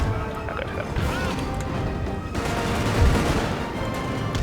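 Napoleon: Total War canister fire bursts as ragged volleys and crashing impacts, a steady mid-level din of overlapping shots with a heavier burst near the end.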